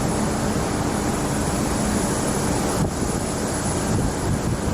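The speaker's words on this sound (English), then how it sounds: "There's MD-11 that diverted." An ABX cargo MD-11 at Phoenix Sky Harbor at night, a loud steady jet roar with wind rumble on the microphone, continuous and close, with no talking.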